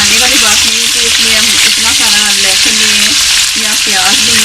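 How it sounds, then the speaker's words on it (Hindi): Chicken for Lahori chicken chanay, cooked without onion, is stirred and fried in a pan, giving a loud, dense, continuous sizzle up close that steadily fills the whole stretch, under light background music. "अब मैं सारा इसे मिक्स करके दूसरी साइड में कर लूँगी"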